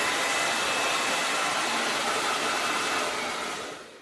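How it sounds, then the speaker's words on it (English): A hair dryer blows dust out of a unit at close range with a loud, even broadband whoosh, then cuts off and fades at the end. "we're just going to take our hair dryer"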